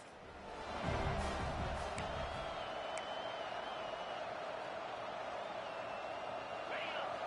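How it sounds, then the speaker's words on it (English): Steady roar of a stadium crowd in an EA Sports College Football game, a constant wash of cheering and noise holding loud throughout with faint whistles and tones above it. "This crowd bringing the energy and noise early."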